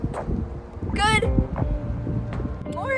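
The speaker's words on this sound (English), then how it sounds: "it's really windy" Gusty wind buffets an outdoor camera microphone at a shipping container home build site, a steady low rumble with brief voice-like sounds over it.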